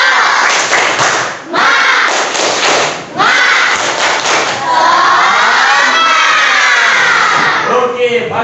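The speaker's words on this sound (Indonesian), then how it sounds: "Kita tepuk semangat yuk" A class of schoolchildren led by their teacher in a morning spirit-clapping chant, with loud rhythmic claps and thumps mixed with shouting voices, close and continuous throughout.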